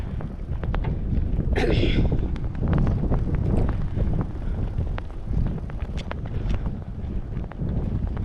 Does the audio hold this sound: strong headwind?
yes